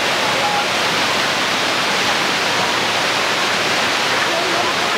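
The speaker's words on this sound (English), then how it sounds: "look at that view of the waterfall" A natural waterfall in Satun, Thailand cascades down layered rock into pools, a loud, steady, unbroken rush of water that fills the whole scene.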